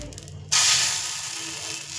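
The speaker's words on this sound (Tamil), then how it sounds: "இந்த மாவை ஒரு 2 கரண்டி எடுத்து நம்ம ஊற்றிக்கலாம்" Green gram dosa batter poured onto a hot pan, a sudden loud hiss that holds steady and slowly fades, with no talk.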